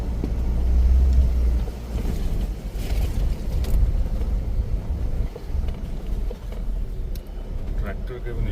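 A four-wheel-drive vehicle in 4H crawls along a rough forest track at night at high altitude. Its engine rumbles continuously with bumps and wind buffeting under someone talking.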